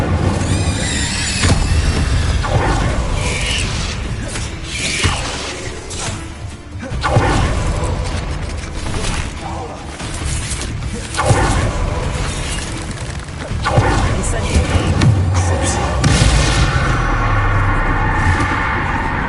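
Spell blasts of Bombarda and Confringo in Hogwarts Legacy, a dense, loud run of crashing impacts, whooshes and thuds repeating throughout, with a voice speaking over the combat.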